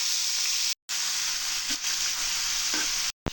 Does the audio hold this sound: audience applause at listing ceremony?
no